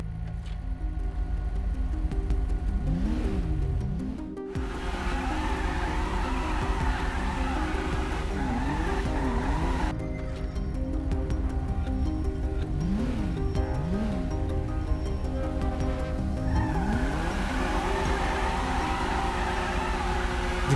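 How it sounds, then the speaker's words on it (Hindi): Car burnout in GTA 5 with tires squealing against engine revving, a continuous loud roar with rising and falling pitch sweeps, and voices talking briefly over it. "दिखा इनको बर्नआउट।"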